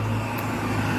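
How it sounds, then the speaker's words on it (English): Road traffic on a street coming down into Langport, with cars passing steadily and close by, making a continuous noisy rumble and hiss throughout. "shame the cars are so noisy, aren't they?"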